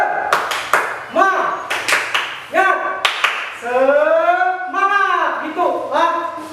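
A group claps out a rhythmic spirit cheer in sharp bursts of several claps, mixed with voices chanting and calling between and over the claps.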